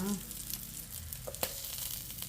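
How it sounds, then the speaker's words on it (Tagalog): Rice frying with garlic in a pan gives a steady sizzle, with a couple of scraping stirs near the end and no talking. "Tapos magsasangag ako ng kanin."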